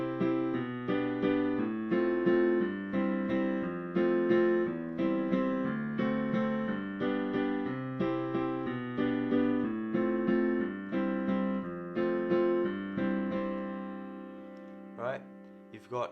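Solo piano playing the verse chord progression of a song, steady rhythmic chords with a moving bass line, clear and close, a brief quiet noise near the end.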